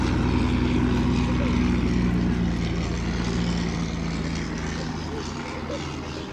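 Century-old Sopwith and SE5A biplanes fly at an air show, their propeller engines a loud, steady drone that fades slightly toward the end, with a faint voice under the engine noise.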